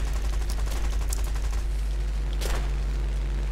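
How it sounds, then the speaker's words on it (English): A rear gun firing in the War Thunder aircraft game, with short clattering bursts early on and another burst midway over a constant loud engine drone. "Jesus Christ, that rear gun is hitting hard."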